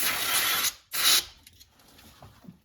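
Brake parts cleaner sprayed onto a Honda V6 engine during a camshaft end seal O-ring job, two close hissing bursts from the aerosol can followed by faint shop clatter.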